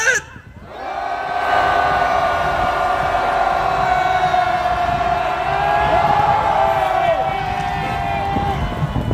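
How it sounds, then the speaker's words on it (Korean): A street rally crowd on the March 1st Independence Movement anniversary shouts together toward the Japanese embassy, a loud sustained roar of many voices lasting several seconds after a brief pause. "일본 대사관을 향해서 힘차게 우리의 평화의 함성을 5초간 외칩시다."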